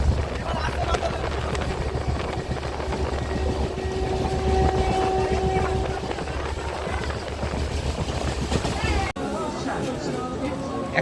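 The Howrah–Digha Tamralipta Express rumbles along the rails with a steady, loud roar and rattling carriage noise, heard from inside the train with talk over it.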